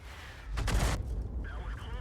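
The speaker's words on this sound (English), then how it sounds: "So let's send a shell his way." A single heavy shell fires from the GW E 100 in a tank video game: a loud, deep booming blast lasting under a second, then a lighter mechanical rumble that trails off.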